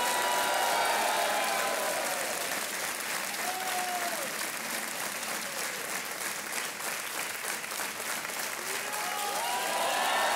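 Sustained, loud applause from a studio audience on the quiz show Kaun Banega Crorepati, an unbroken wash of clapping that stays steady throughout with a few faint tonal sounds mixed in.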